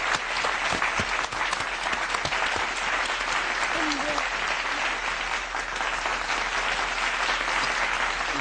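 Steady studio audience applause for a team on a Hindi TV quiz show, dense and continuous throughout with a faint voice briefly audible partway.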